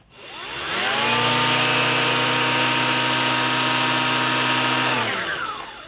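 On the high power setting, a Stihl FCA 80 battery edger spins up quickly to a loud, sustained high-pitched motor whine and holds steady for several seconds before winding down, close up and with no talking.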